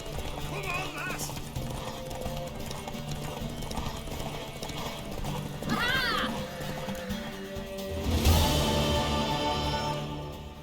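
Galloping horse hooves clip-clop steadily in The Witcher 3: Wild Hunt, joined by a loud whinny near the end, with spoken game dialogue over the rhythm.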